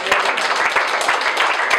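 A church congregation claps together in dense, sustained applause, loud and close, with no voices standing out.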